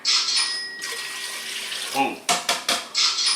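Water poured from a cup into a pot of beef being cooked for pulled-beef tacos, a steady broadband splash followed by several short bursts as the pouring stops and restarts, close by.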